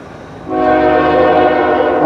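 A CN freight train's horn blasts loudly and steadily as the train nears a road crossing, following a brief stretch of quiet rail rumble.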